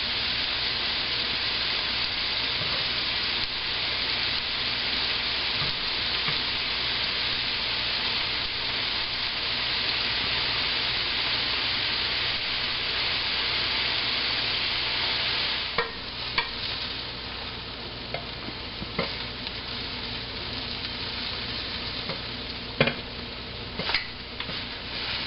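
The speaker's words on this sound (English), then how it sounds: "Normally scallops don't really take that long, probably like 30-40 seconds on each side for a nice sear." Scallops searing in a hot pan for a French seafood dish give off a continuous, even sizzle and hiss throughout, with a few light clicks and taps later on.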